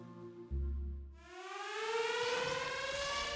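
An air raid siren in Coventry, 1940, winds up and wails loudly, its rising pitch sustained and steady after a brief low rumble at the start.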